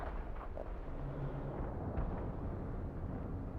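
Artillery shells exploding on target in a military strategy video game set in wartime, a continuous low rumbling roar of distant detonations rolling together across the whole stretch without clear separate blasts.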